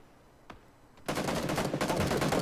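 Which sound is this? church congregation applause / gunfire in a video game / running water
gunfire in a video game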